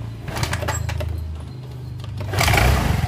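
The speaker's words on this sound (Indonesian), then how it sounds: "Ini motornya mau hidup atau enggak ya?" A carbureted Honda Vario scooter engine turns over and runs with a low, buzzing hum that swells louder near the end, heard close with a few faint scrapes and no voices.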